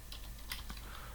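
Someone types a web address on a computer keyboard, producing a quick run of light, irregular key clicks over a steady background hum, close to the microphone, with no voices.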